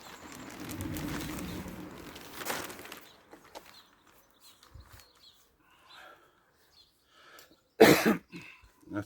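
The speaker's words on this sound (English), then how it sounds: "You have to forgive me for coughing and croaking a bit." A person coughs close by, first in a rough, drawn-out fit and then with a few scattered coughs and throat clearing, followed by one sharp loud cough near the end.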